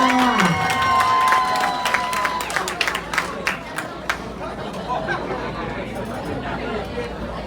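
Guests at a Thai wedding in Nonthaburi break into applause and cheering for the bride's parents, a loud burst of clapping that thins into scattered claps amid lively crowd chatter and an announcer's voice.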